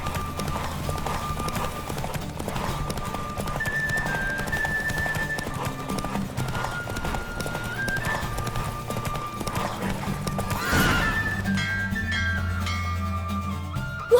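A horse in The Witcher 3 gallops with steady, rhythmic hoofbeats that run the whole time, under sustained background music tones, and a louder burst comes near the end.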